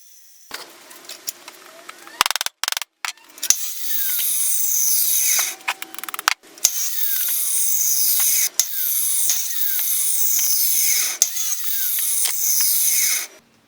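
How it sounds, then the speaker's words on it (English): Old timber flooring is cut down for a bathroom cabinet frame with a power saw: repeated loud, whining cuts start and stop in bursts, each a few seconds long, with brief gaps and knocks between them. "I've used some of the old timber flooring that was in the bathroom, and I'm just cutting it down for the frame"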